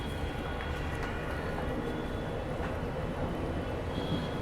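The 17209 Seshadri Express from SMVT Bengaluru to Kakinada Town pulls out of KR Puram station, heard from inside as a steady, quiet rumble of rolling wheels and carriage noise.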